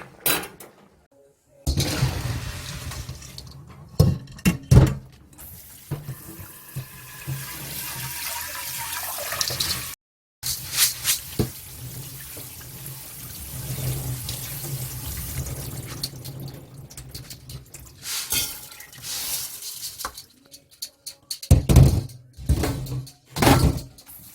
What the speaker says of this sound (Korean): 이걸 다시 이제 이걸 한번 찬물에다가 헹궈가지고 다시 물을 붓고 한번 이제 끓일 거예요